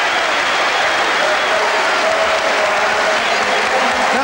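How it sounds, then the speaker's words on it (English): Dense, steady applause from a large football crowd of Tottenham fans at a 1986-87 match against Oxford United, cheering Hoddle's goal; a continuous roar of clapping fills the whole stretch. "He gets applause from his manager and the bench, and from the Tottenham fans as well."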